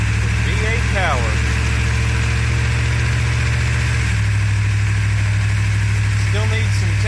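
V8 car engine running steadily while driving, with a distributor still needing tuning: loud, constant, rumbling and close, with a slight shift in tone partway through, as someone talks over it at times.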